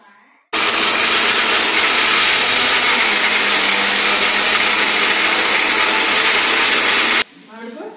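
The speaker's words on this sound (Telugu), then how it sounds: "ఇచ్చిన ఎండుమిర్చి, ఆవాలు, మెంతులు, జీకర్ని కచ్చా పచ్చగా గ్రైండ్ చేసుకుందాం" A mixer grinder runs loud and steady for about seven seconds, grinding dried red chillies, mustard, fenugreek and cumin seeds into a coarse powder, with quiet room sound before it starts and after it stops.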